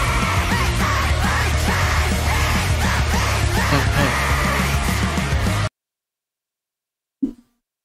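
A woman's intense, sustained scream, loud and close, filling the first five and a half seconds. It cuts to silence, followed by a brief faint thump near the end.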